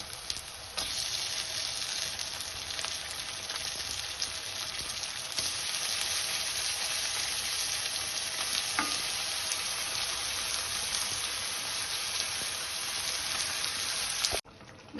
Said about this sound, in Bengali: এবারে এই চিকেনগুলো দিয়ে একটু হালকা করে একটু ফ্রাই করে নিতে হবে এই পেঁয়াজের সাথে